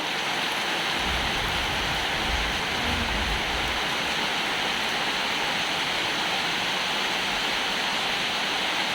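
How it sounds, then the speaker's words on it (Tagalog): Heavy rain pours in a dense, unbroken hiss, loud and steady throughout, with no voices. "Uy, ang lakas ng ulan talaga."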